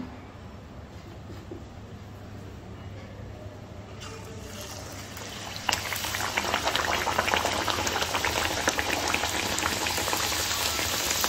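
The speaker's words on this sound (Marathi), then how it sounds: "तर आता तळायला घेऊ आपण." Rolled bhature deep frying in hot oil, a dense steady bubbling hiss that surges sharply louder midway as dough drops in, continuous and close with no talk.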